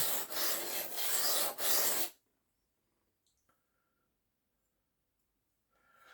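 Steady rasping strokes of a new Aurillac knife being sharpened, a loud burst of rubbing for about two seconds followed by near silence with a few faint clicks.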